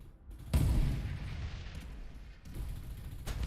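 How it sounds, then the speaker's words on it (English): Gunfire in a mobile video game tournament sounds as a series of muffled, bass-heavy bursts and booms. Firing rolls on continuously at low volume, with a few sharper onsets breaking through. "There is a lot of gunfire coming."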